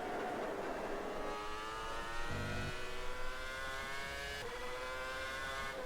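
Engine of a 2013 Red Bull RB9 Formula 1 car in rFactor 2 whines at high revs, pitch climbing steadily through a gear with a brief shift dip. The sound is loud and continuous, with no voices.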